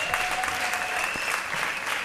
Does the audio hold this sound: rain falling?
no